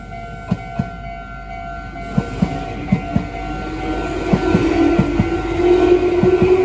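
A Meitetsu 700 series electric train rolls past close by at Chiryu Station, wheels clacking in a steady rhythm over rail joints, with a rising rumble and a faint high electrical whine.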